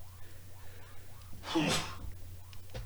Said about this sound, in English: Oh, I had to sneeze there.